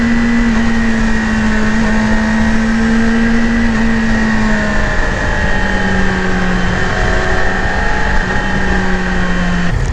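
A 2018 Yamaha YZF R6 sport motorcycle being ridden, its engine holding a loud, steady drone throughout with a slowly shifting pitch and a little slide downward near the end, heard alone with no voices.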